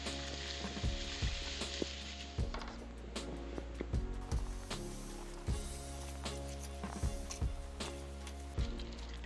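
Flaked maize and milled grains being stirred into hot strike water for a beer mash, a continuous wet churning hiss with periodic soft knocks of the paddle against the vessel, close, under a steady background hum, no talk.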